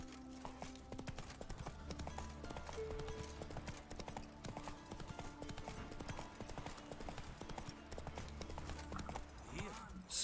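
Geralt's horse Roach gallops in The Witcher 3, hooves pounding in a fast, continuous rhythm under background game music, steady and moderately close throughout.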